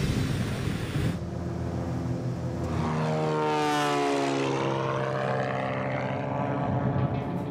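A small propeller airplane in Alaska powers up for takeoff, its engine droning loud and steady with a rising, sweeping pitch as it gathers speed down the runway, with no voices heard.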